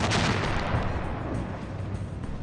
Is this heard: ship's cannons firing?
yes